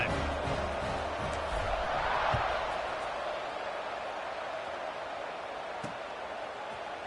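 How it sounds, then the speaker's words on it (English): Football stadium crowd in a college football video game, Houston versus Texas Tech, a broad distant roar of cheering that swells briefly and then settles into a steady murmur, with no talk over it. "this crowd is feeling themselves after that last drive"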